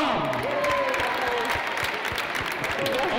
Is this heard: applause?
yes